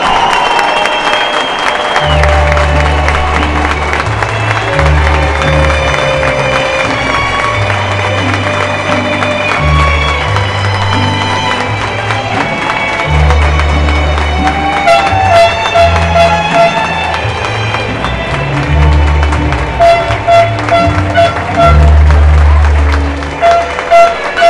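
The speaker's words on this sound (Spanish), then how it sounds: "Y lo queremos recordar con un minuto de aplauso." Sustained applause from a large crowd inside the Arena Coliseo during a wrestling tribute, steady and loud for the whole stretch, with heavy low rumbling and crowd noise blended in.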